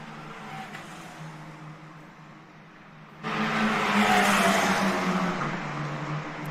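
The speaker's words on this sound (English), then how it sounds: "Here she is, Mathilda Paatz, leading this group of cars on the main straight again" Formula 4 race cars run down the main straight at the Red Bull Ring, a steady distant engine drone that suddenly swells louder as a pack of cars sweeps past and stays loud to the end.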